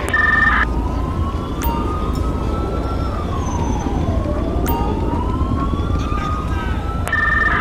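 An ambulance siren in the video game GTA 5 wails continuously and loudly, its pitch sweeping up and down over a steady engine drone, with short electronic chirps at the start and end.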